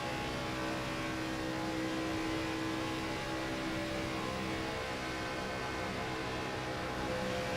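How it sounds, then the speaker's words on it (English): A race car motor in an ARCA Series racing video game at Talladega Superspeedway, droning steadily and straining as it bogs down, a continuous mid-level engine hum with no talk. "You can definitely hear the motor as it's kind of getting bogged down"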